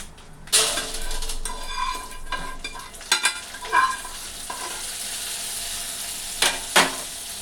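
Chana dal, mustard seeds and urad dal drop into hot oil and sizzle and crackle steadily. A spoon clatters and scrapes in the pan now and then, close and fairly loud.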